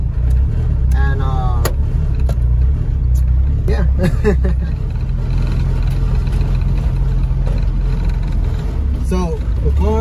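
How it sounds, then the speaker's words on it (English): A turbocharged Honda Integra engine runs during a test drive, a steady loud low rumble at close range carrying throughout, with someone talking over it. "give y'all a sound of how the car sounds now"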